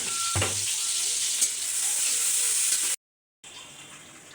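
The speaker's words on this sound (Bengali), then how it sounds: "দিয়ে দিলাম সয়াবিন তেল আর পেঁয়াজ।" Onions frying in soybean oil for a village-style koi fish and radish curry, a steady close hiss and sizzle with a brief stirring clatter near the start and a short cut of silence before the sizzling resumes.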